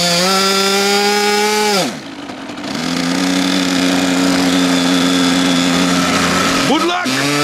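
A Rossi 45 glow engine on a Protech Laser Arrow 1000mm model flying wing screams loud and close, dipping sharply in pitch twice as the throttle drops and rises again, with voices talking over it.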